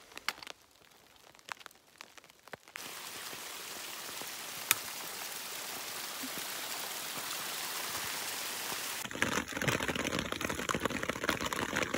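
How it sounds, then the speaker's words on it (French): Steady rain falls on a mountain trail along the GR20 in southern Corsica, a dense even hiss that starts after a few quieter seconds of scattered drops and grows heavier and brighter toward the end. "il pleut."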